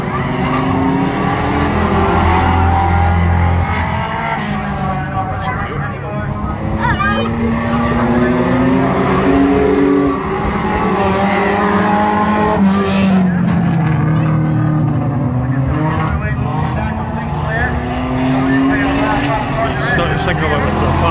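Banger racing cars at Crimond, Scotland, roar and rumble continuously around the track with engine revs rising and falling, scrapes and impacts mixed into the din, while someone talks over the racket throughout.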